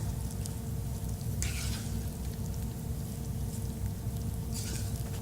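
Enchilada sauce stirred into cooking tomatoes, a continuous loud sizzle with scraping stirring strokes and brief bursts of spatter.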